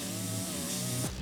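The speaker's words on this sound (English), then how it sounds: "Rough edges need to be ground down" A power grinder whines steadily, close and loud, as rough edges are ground down on an old steering wheel, with the pitch dropping sharply near the end.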